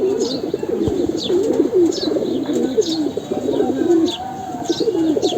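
Pigeons in a crowded loft coo continuously in low, rolling throaty calls, close and loud, with a few higher chirps from young birds scattered over the top.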